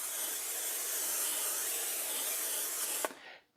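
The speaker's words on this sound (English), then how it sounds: "Now I'm going to spray it over the sink" Cooking spray hisses steadily from a can onto a quarter sheet pan over a kitchen sink, one continuous close burst lasting about three seconds before cutting off.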